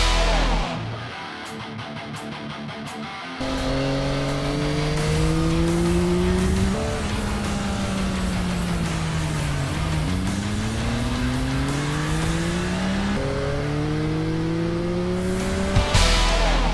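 A sport touring motorcycle riding on a street, its engine droning loud and close as it rises and falls through the gears, with repeated shifts and a brief burst near the end, and no talking.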